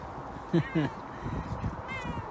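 A cat meows twice in quick succession nearby, then gives a softer, drawn-out mew a moment later over quiet background noise.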